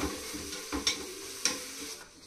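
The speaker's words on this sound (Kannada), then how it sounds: "ಕರ್ಬೇವಿನ ಎಲೆಗಳು, ಇವಾಗ ಇದಿಷ್ಟು ಹಾಕ್ಬಿಟ್ಟು ಚೆನ್ನಾಗಿ ಒಂಚೂರು ಫ್ರೈ ಮಾಡ್ಕೋಬೇಕು." Curry leaves and green chillies frying in a pan, a soft steady sizzle with a few sharper crackles and spatula stirs standing out, fading toward the end, no voices.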